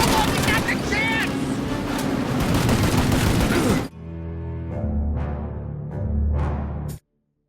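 Heavy gunfire during a shootout in Mafia: Definitive Edition, a dense loud fusillade that stops abruptly halfway, then a few separate shots and rumbling impacts before cutting to silence, with shouting voices mixed in.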